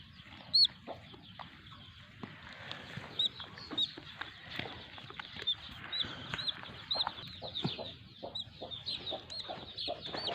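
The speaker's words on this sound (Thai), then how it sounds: "มาดูไก่ก่อน" Chickens cluck and murmur in short scattered bursts nearby, with a few sharper squawks over a faint, hissy outdoor background.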